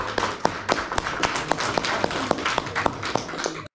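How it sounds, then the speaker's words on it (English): A few hands clap for the speaker Phil in a quick, steady rhythm of sharp, fairly faint claps that run evenly from start to finish. "Let's give another round of applause for Phil."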